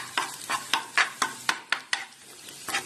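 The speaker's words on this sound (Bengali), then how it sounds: "এবার ডিমটাকে এখানে ভেঙে চুড়ে একদম ভালো করে ঘেটে দেবো।" Beaten egg fries and is scrambled in a pan beside potatoes. About nine quick, regular scraping stir strokes sound over a soft sizzle, close up, with no talking.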